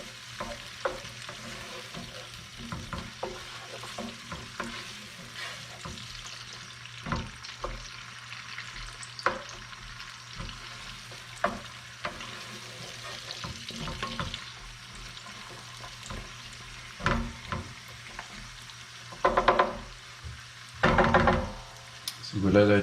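Sliced and stick-cut carrots cook in a pan for cassoulet, giving a quiet steady sizzle broken by spatula scrapes and knocks that grow louder and busier toward the end.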